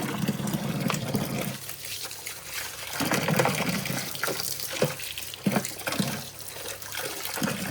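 Tap water runs and splashes as a compost caddy is rinsed out in a kitchen sink, a continuous close trickle with a few brief clunks and splashes.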